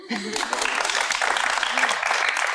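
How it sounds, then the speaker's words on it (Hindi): Studio audience applause for a guest on a Pakistani talk show, a steady broadband patter of clapping running through, with people talking over it and laughing near the start. "मेरे लिए तालियां"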